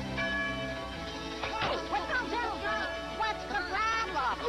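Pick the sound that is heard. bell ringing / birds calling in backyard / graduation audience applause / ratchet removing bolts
bell ringing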